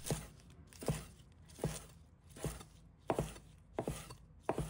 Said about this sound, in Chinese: 蒜叶也切成小段